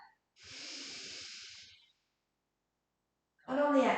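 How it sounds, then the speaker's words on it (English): A deep yoga-relaxation breath: a long, soft airy inhale drawn in near the mic for over a second, then silence before a brief voiced sound begins at the end. "So take a big deep breath"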